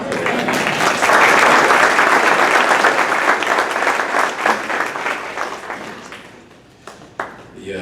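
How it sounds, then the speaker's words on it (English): A Rotary club meeting audience applauds, dense close clapping from many people that swells, holds for several seconds and then thins out toward the end. "You might get tired of clapping in a little bit."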